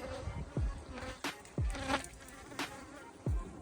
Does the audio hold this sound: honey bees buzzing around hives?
yes